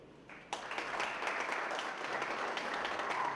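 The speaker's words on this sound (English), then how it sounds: "One more time, a round of applause for Mr." Audience applause at a music strategy launch event, a dense steady wash of many hands clapping that breaks out abruptly after a brief quiet opening and holds at an even level to the end.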